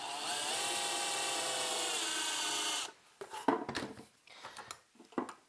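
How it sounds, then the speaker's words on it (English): An electric drill bores into a metal chassis for a tube phono preamp, giving a steady, loud grinding whir for about three seconds before stopping. Scattered clicks and handling knocks follow. "we angle the drill a little bit this direction"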